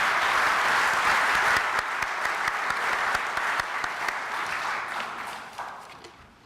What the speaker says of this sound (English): if I could ask you to have a round of applause for all of my fellow members